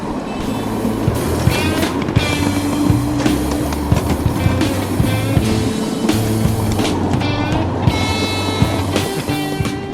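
A ride-on scale electric Porter locomotive runs steadily on a miniature railroad, giving a continuous rolling rumble with rail clatter and tonal whine, loud and close throughout, with no talk.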